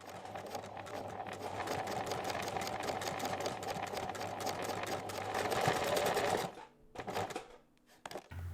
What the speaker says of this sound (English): You're going to sew close to the folded edge on all sides.